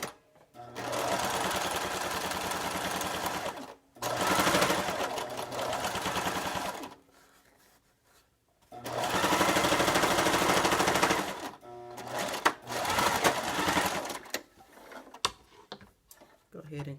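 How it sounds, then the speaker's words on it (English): Sewing machine stitching down the hem of a fabric face mask with a back stitch, a loud steady mechanical whir in several long runs separated by brief pauses, with no talking over it. "we're going to go ahead and sew those down. I'm going to do a back stitch."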